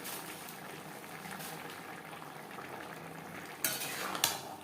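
Ghee and garam masala powder being stirred into a vegetarian paneer and broccoli gravy in a pan: a steady soft bubbling, scraping hiss, with a brighter clatter of the spoon near the end and no talk.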